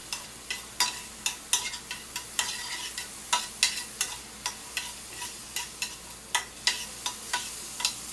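Chopped onion browning in a hot pan with oil before pork chops are added, sizzling steadily while a spoon stirs it in repeated scraping strokes, close and clear, with no talking.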